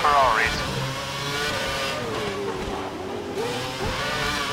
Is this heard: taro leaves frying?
no